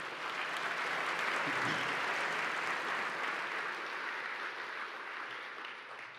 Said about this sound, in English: Let's give it a round of applause to all the recipients and winners.